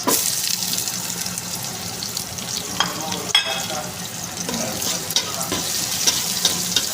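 Garlic and onion sautéing in a pan for chicken tinola, a steady broadband sizzle with scattered scraping stir clicks, close and fairly loud, with no talking.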